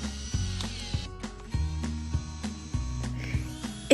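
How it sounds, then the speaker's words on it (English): A VUDECO auger drill bit for planting is being tightened into a drill chuck, giving a series of sharp ratcheting clicks in uneven rhythm, close and fairly loud, with no talking. "Adjust the auger drill bit until tight."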